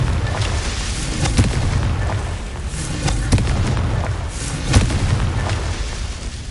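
The Confringo blasting spell explodes in Hogwarts Legacy with deep, rumbling booms, several loud bursts rising over a continuous low roar.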